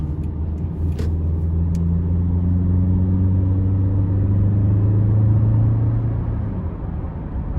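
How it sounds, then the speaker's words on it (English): A 2011 Toyota Camry LE accelerates out of a corner, heard from inside the cabin as a loud, steady engine drone. Its pitch climbs smoothly for several seconds before easing off, with no talking. "We'll give it some throttle coming out of this corner."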